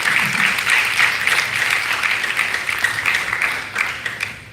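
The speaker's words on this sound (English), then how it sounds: "Is there a round of applause?" Sustained applause from an audience at a live talk event, a dense steady wash of many hands clapping together for several seconds at fairly loud level, with no speech over it.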